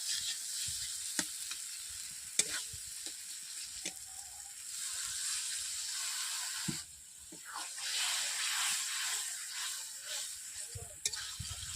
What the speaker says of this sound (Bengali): বন্ধুরা টমেটো দেওয়ার পর এভাবে আমি মশলাটাকে দু থেকে তিন মিনিট কষিয়ে নিচ্ছি ভালোভাবে